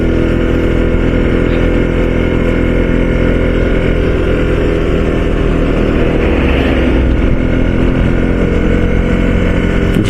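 A motorcycle rides along a mountain road in second or third gear at about 30–40 km/h, its engine droning loud and steady throughout with wind rush and no speech.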